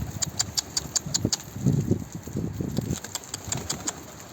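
A male çapar pigeon gives low, throaty coos in a burst near the middle, fairly close, over a faint hum with light repeated ticking throughout.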